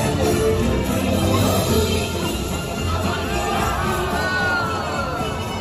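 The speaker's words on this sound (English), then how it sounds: "I love the crowd's reaction" A large outdoor crowd reacts to a kite crash with a sustained wash of cheers, shouts and whoops, some children's voices among them, loud and continuous throughout.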